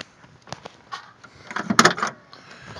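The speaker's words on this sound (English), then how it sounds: "Take a look how good that door opens and shuts." The door of a 1969 Chevrolet Chevelle muscle car opens and shuts, giving a few clicks of the latch followed by a solid closing thunk, close by with light background noise.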